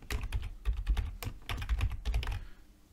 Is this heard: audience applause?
no